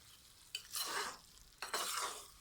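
A spoon stirs chicken in whisked yogurt in a pan as the liquid cooks off, giving two bursts of scraping, sizzling stirring separated by a quieter pause.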